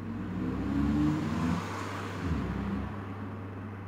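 A ventilation fan motor with a newly replaced capacitor runs up close, giving a steady low electric hum that swells slightly and then settles, with no one talking.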